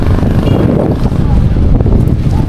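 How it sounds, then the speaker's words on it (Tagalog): Loud wind buffets the microphone in low, rumbling gusts, with a voice faintly under the roar. "Mahangin."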